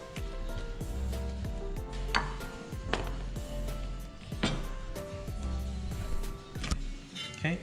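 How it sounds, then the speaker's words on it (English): Knife chopping through washed chives coarsely into large chunks on a board, several sharp cuts at an uneven pace, with faint kitchen background sounds and no talk. "I've just washed the chives. Now I'm going to chop them up pretty coarsely into large chunks."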